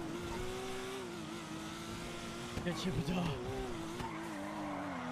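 Car engine drone and tire skidding in a GTA roleplay game on a NoPixel server, a steady engine tone with a brief squeal burst midway, while players talk over it.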